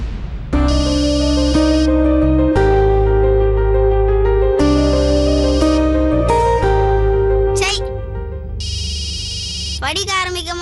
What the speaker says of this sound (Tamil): அப்பா, உங்க போன் தான் அடிக்குது, வந்து எடுத்து பேசுங்க.